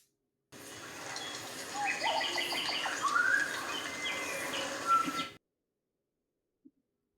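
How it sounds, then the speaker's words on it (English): Library recording of birdsong plays for about five seconds, several chirps and short trills over a soft steady hiss, then cuts off abruptly, leaving silence with one faint click. "maybe we do have some bird sounds. Maybe this will be close."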